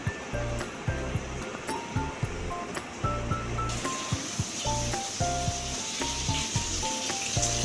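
Malabar spinach (pui shak) cooking in a wok sizzles steadily, with a regular rhythm of soft thumps and clanks as it is stirred; no voices.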